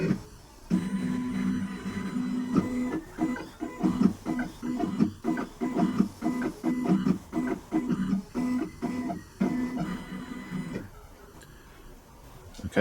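Ninja key machine decoding a clamped key, a close mechanical whirring with rapid stuttering pulses and clicks through the middle, easing off into quiet near the end.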